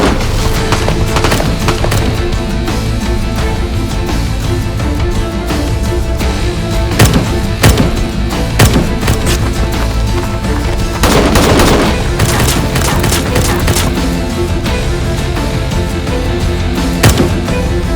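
Heavy gunfire from a battle scene, bullets raining down in rapid machine-gun bursts and scattered single shots with booming impacts, loud and dense throughout, with heavier volleys near the middle and end.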